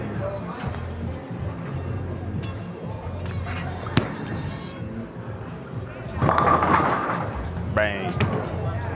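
A Hammer Hazmat Pearl bowling ball rolls down the lane with a low rumble and then crashes loudly into the pins, with a scattered clatter that follows, while voices talk throughout.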